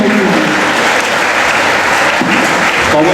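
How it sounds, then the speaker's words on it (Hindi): Loud, sustained applause from a crowd at a school award ceremony honoring top-scoring students at an inter college, a dense unbroken clapping that fills the whole stretch. "तो जोरदार ताली अपने दूसरे भाई को।"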